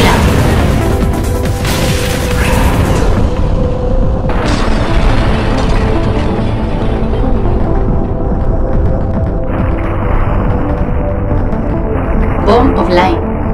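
Bomb explosions in the arcade shooter NS Debris Infinity, a loud continuous roar of booming blasts layered with game music and effects, never letting up, with game voice announcements over it.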